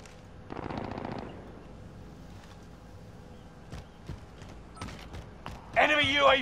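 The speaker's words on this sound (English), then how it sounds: "Taking fire." Gunfire in Call of Duty: Modern Warfare: a short automatic burst, a scatter of single shots, and a louder burst near the end, with quiet in-game voices in between.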